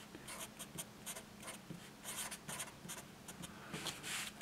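Chalk or marker scratches across a board as physics equations about conductors go up during a lecture, a rapid series of faint, close scraping strokes and taps with no talking.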